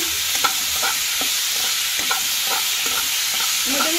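Chopped tomatoes sizzle steadily in a hot pan for a homemade chicken stew, with a spatula scraping and stirring through them in a loose rhythm close by; no one talks.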